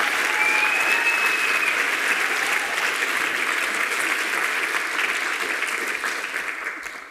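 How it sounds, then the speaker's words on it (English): Sustained audience applause for a team after pitches at a youth engagement event, a loud dense continuous roar of clapping that holds steady then fades out at the end, with a faint whistle early on. "you can give another round of applause for the Team Teilhabe"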